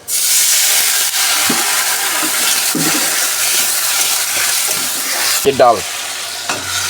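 Turmeric fries in hot oil with a drop of water for dal chorchori, giving a loud, steady close sizzle and hiss. Brief stirring scrapes and a short clatter break through the frying.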